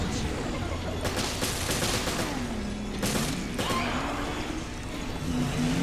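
A shotgun is fired several times in the video game Resident Evil Revelations, with loud, separate blasts spaced a second or two apart over a droning in-game background.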